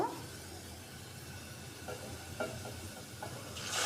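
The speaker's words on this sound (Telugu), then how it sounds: "ఇవి ఇలా లైట్గా వేయించుకున్న తర్వాత" Ingredients frying lightly in a pan for a Rayalaseema-style brinjal curry, with a soft steady sizzle and a few faint stirring clicks, heard alone at low volume.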